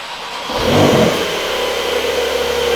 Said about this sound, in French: Là, elle démarre, elle a pas roulé depuis ce matin.